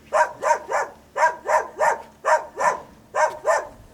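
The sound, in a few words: dog barking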